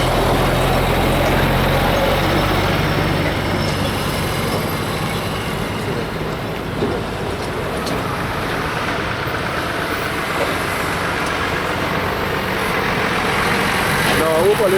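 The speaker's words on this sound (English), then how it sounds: "I hope all see the kind and the size of trucks going in there" Large trucks rumble past continuously in Trinidad, a low heavy engine drone with steady road noise that swells slightly near the end, no clear talking.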